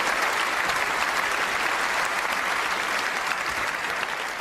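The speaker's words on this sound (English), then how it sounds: "Give yourself a massive round of applause." A large audience at the BAFTA Games Awards claps steadily, a thick, even wash of applause that stays loud and unbroken throughout.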